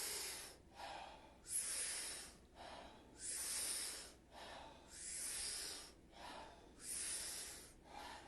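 Powerful Wim Hof breaths drawn and released through the mouth, close and rushing, repeating in an even cycle roughly every second and a half, with no talking.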